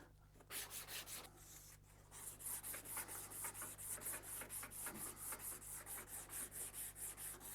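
A sharp knife carves a wooden stick clamped firmly in a vise, making steady, close, rhythmic scraping strokes that repeat in a brisk back-and-forth pattern, quiet and unaccompanied by talk.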